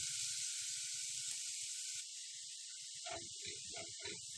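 Garlic frying in a pan for Egyptian fatta, with a steady bright sizzle throughout that shifts and crackles more sharply as vinegar is splashed in partway, under intermittent low voice sounds.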